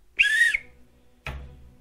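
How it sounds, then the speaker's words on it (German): A referee's whistle blown to start the first half of a Freiburg versus Bayern match: one loud, shrill blast of about a third of a second, then a shorter, fainter second toot, with nothing else heard. "hier ist die allseits bewährte Pfeife und ich starte jetzt"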